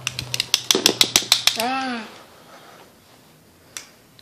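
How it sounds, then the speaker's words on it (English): A quick run of about ten sharp hand claps sounds up close in a steady rhythm, followed by a drawn-out voice and one last faint clap. "you want me to show you how to clap?"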